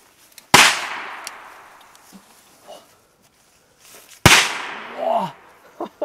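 Two sharp, loud firework blasts from leftover pyrotechnics crack out a few seconds apart, each followed by a long fading crackle and hiss, with faint whistling trails and small pops between them.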